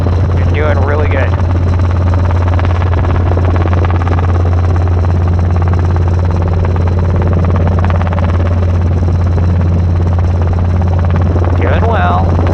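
Robinson R22 helicopter in flight during a training lesson, its steady loud rotor and engine drone filling the cabin throughout, with brief instructor voices over the intercom near the start and end.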